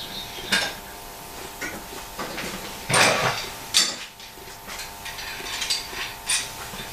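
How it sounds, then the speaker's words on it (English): Metal clamps clanking and rattling as they are set in place for fitting a wood edging, with scattered knocks and one louder clatter midway, close and without talk. "start off by putting a few clamps in place"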